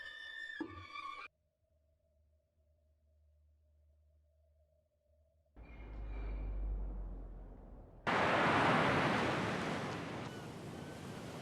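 Seaside waves in a film scene: after a brief musical opening and a quiet low hum, a surging wash of surf rises, then a loud, full crash of breaking waves with wind.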